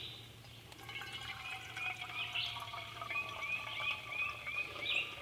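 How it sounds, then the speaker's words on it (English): Water drains through a shemagh cloth into a water bottle, a faint trickle with rising gurgling tones as the bottle fills, close and quiet with no talk. "it sounds exactly like the water's pouring straight into the bottom of the water bottle"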